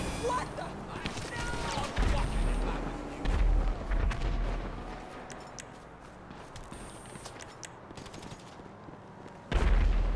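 Gunfire in the GTA V video game: repeated shots and heavier booming bursts rattle through a busy game mix, with people talking over the action throughout.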